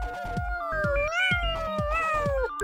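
A cat meows repeatedly in a fictional kitty-litter commercial, with several loud, drawn-out, wavering cries close to the microphone.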